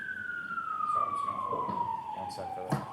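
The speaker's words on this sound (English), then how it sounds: "One sec for the siren." An emergency vehicle siren sounds outside a courtroom during trial testimony as one long wail sliding steadily downward in pitch. It is moderately loud, with murmured voices and small room noises underneath.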